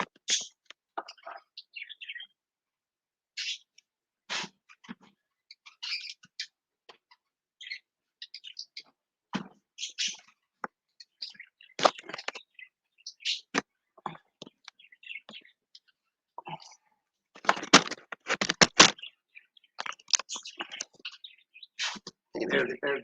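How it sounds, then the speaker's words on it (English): Pet parakeets chirp in a cage, sharp scattered tweets and clicks coming in irregular bursts, with a few louder clustered calls and quiet gaps between them. "See the birds. The little parakeets we have."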